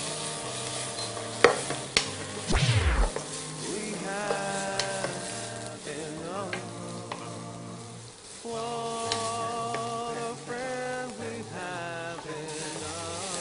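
Shrimp cooking in a pan, with a steady sizzle and stirring scrapes under background music, one sharp clatter near the start.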